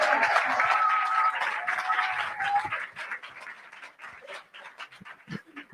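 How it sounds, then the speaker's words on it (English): A youth pitch competition audience applauds for St. Maarten Academy, loud clapping at first that thins and tapers into scattered claps and murmurs. "Can we give the St. Maarten Academy a big round of applause"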